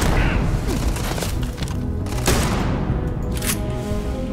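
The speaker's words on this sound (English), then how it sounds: "I'm just gonna go in for a hit with a shotgun" Shotgun blasts in the Starfield video game during a close-range fight, heavy booming shots over a dense, noisy backdrop of combat sound.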